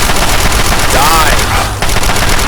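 Loud automatic gunfire rattles nonstop in Fallout 3, rapid close shots pouring out in a dense stream with a brief dip near the end before firing resumes.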